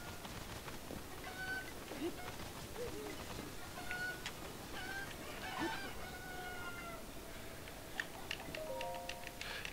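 Chickens in Zelda Breath of the Wild cluck and squawk in scattered short calls over a busy game background, with a voice talking over parts of it, the bird sounds staying moderate and intermittent.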